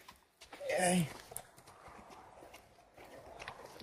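A trail horse's hooves clip-clop at a walk on a stable path, soft repeated strikes under voices, with one louder burst of sound near the start.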